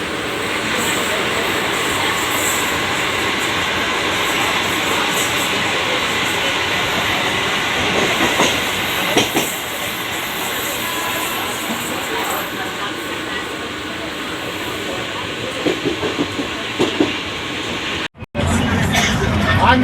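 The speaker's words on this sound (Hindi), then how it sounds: "ये है बॉम्बे की लोकल ट्रेन जो कि वहाँ पर चलती है।" A Mumbai local train rolls past in a loud, steady rumble with rattling carriages, the roar filling nearly twenty seconds, while a crowd's chatter and voices mix underneath before a sudden brief cut.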